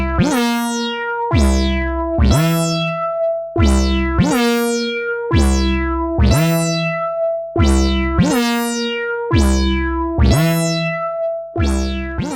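A 1979 Roland System 100m modular synthesizer plays a sequenced patch, with the 182 sequencer driving a 112 oscillator module: repeated plucky, bright notes with sharp attacks and quick decays in a steady pattern, clear and alone.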